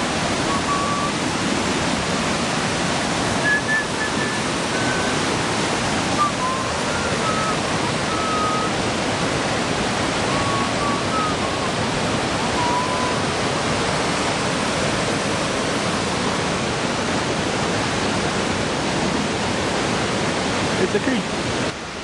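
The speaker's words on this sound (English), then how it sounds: "It's a creek." A creek rushes steadily over rocks in a continuous broadband hiss, with faint birdsong chirping now and then above the flow.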